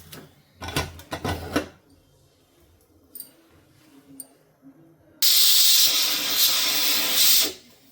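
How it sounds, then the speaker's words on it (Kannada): Pressure cooker on a stove while egg and chicken curry cooks: a few brief clatters and faint hisses, then a loud, close, sustained whistle of rushing steam lasting about two seconds before cutting off. "ಇವಾಗ 2 ವಿಷಲ್ ಬಂದಿದೆ, ಆಫ್ ಮಾಡ್ಕೊಳ್ಳೋಣ."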